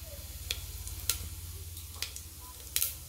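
Cumin seeds sizzling in hot oil in a pan, a steady soft frying crackle with a few sharp clicks and pops scattered through it.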